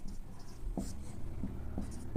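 Chalk or marker tapping and scratching on a classroom board during a math lesson, a few short distinct strokes spaced about half a second apart over a steady low room hum.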